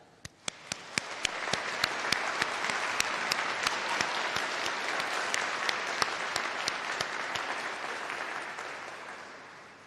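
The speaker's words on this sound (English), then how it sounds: "let's give a round of applause and a massive cheer" Graduation ceremony audience at a university winter congregation breaking into applause, with sharp individual claps standing out at first, then swelling into sustained clapping that fades gently toward the end.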